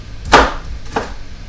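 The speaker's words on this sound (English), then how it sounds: "Gotta do basic cut of the onions." Onions cut on a board beside a hot grill, two distinct chopping knocks about half a second apart, close and fairly loud.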